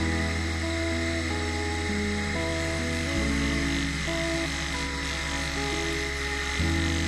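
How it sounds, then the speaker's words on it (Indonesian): A rotary tool polishes and sands a flat stone, giving a steady, close, high-pitched motor whine that shifts pitch a few times as the load changes, without a break and with no speech. "Kita poles pelan-pelan. Untuk batu flat seperti ini kita nggak membutuhkan waktu lama untuk proses pengamplasan."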